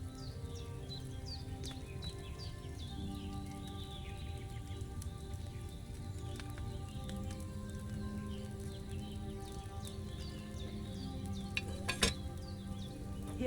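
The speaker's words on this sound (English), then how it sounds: "Hear that bubbling? It's boiling." A cauldron boiling over a fire in the video game Kingdom Come Deliverance 2 gives a steady, close bubbling and sizzling with faint birdsong in the background, and one sharp clink near the end.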